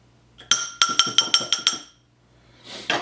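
A spoon stirring dipping sauce in a bowl gives a quick run of about seven bright, ringing clinks in steady rhythm, close and clear, then a soft scrape as it stops.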